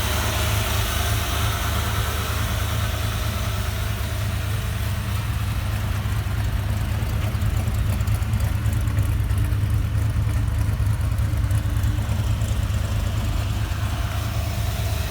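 An early Ford Bronco, started for the first time in 26 years, idles with a steady low rumbling engine note, close and continuous with no speech.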